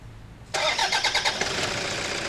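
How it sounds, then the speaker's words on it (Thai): A car engine cranks and catches after a brief quiet moment, the starter whirring in quick rhythmic pulses before settling into a steady idle, close and alone without talk, during air-pressure fuel injector cleaning. "อ้าวทีนี้ติดเครื่อง เราติดเครื่อง"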